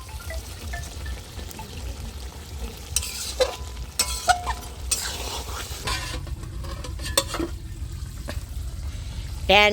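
Meat being sautéed and stirred in a pan for kosha, a steady sizzle of frying with repeated scraping and clinking of a spatula against the pan, close up, with soft background voices now and then.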